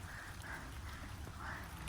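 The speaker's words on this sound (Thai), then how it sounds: "ฝนมาอีกแล้วค่ะ" Rain falls outdoors in a watercress-picking patch, a steady broad hiss with soft pattering and no clear individual drops, moderately quiet throughout.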